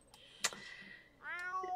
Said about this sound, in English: why did Plagg come in here meow?